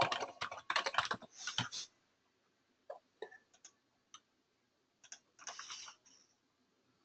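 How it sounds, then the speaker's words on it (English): Typing on a computer keyboard: a quick flurry of close key clicks at the start, then scattered short bursts and single taps separated by silence, with no one speaking. "I knew I typed that wrong."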